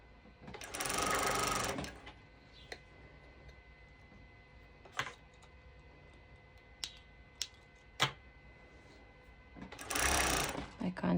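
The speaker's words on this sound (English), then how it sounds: "I do it with my cover stitch machine since it's much faster technique." Cover stitch machine sewing a sporty top whirs in two short bursts at the start and end, with sharp clicks and ticks scattered through the quieter stretch between.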